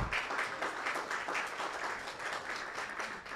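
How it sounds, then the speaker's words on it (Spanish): Applause from a panel audience at an innovation event in Peru, welcoming a speaker to the stage: steady, dense clapping that fills the whole moment at moderate level with no talk over it. "Aplausos para ella, por favor."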